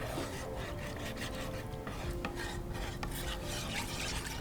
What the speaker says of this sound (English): we want to take a wooden spoon, try and dissolve the sugars